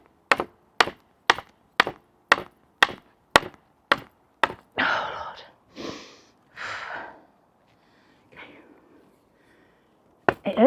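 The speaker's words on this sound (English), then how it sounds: "It hurts hammering up here." Hammering at an allotment garden: about ten sharp, evenly spaced close blows, then three longer breathy grunts of effort, a pause, and more knocks at the end.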